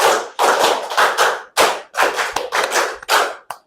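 Hands clap close and loud in a counted classroom rhythm, sharp claps in quick groups separated by short pauses.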